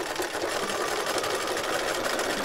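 Home sewing machine running a repeated stitch while sewing round circles, a fast, even mechanical whir and tapping that continues steadily for a couple of seconds with no voice.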